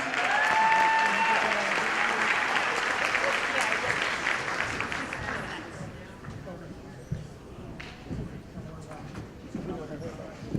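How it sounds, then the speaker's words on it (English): Conference audience at an educators' event gives a full round of applause, dense and loud clapping that gradually tapers over ten seconds into scattered claps and room murmur. "Can we give her a round of applause,"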